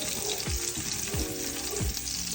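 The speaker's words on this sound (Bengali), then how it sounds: "আমার রসুন ভেজে নিলাম" Garlic frying in a pan makes a continuous loud sizzle, broken by four low thumps or scrapes from stirring at roughly even intervals; no one speaks.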